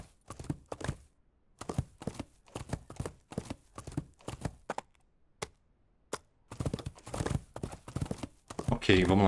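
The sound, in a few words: horse galloping hooves in Cowboy Life Simulator video game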